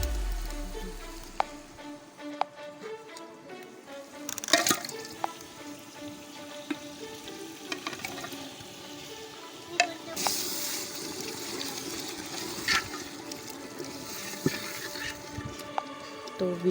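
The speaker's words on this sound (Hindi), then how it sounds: "मसाला अच्छी तरह भून चुका है। अब हम इसमें मिर्च शामिल करेंगे।" Masala frying in a pan for a desi chicken curry, a steady low sizzle with scraping stir strokes and a few sharper clinks of the spoon against the pan.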